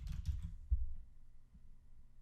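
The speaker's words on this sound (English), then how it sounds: "then type the attribute name" A few quick keystrokes on a computer keyboard, faint and close, cluster at the start and then give way to near silence.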